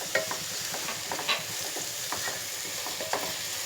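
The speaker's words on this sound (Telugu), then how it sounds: "కొంచెం పచ్చివాసన పోయేదాకా అల్లం వెల్లుల్లి పేస్ట్ ఫ్రై చేసుకుంటే సరిపోతుంది" A spoonful of ginger-garlic paste frying in hot oil for a cucumber and dried prawn curry, a continuous hissing sizzle with occasional light taps and scrapes of a spoon, no talking.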